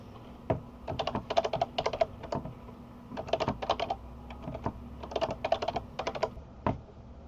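Someone types a password on a computer keyboard: quick bursts of crisp key clicks in clustered runs with short pauses, close and clear with no talking.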